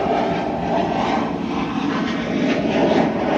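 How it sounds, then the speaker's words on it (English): Finnair Embraer jet landing at Manchester Airport, a steady, fairly loud broadband engine roar with a dense rushing texture and no voices. "There's a Finnair about to land as well."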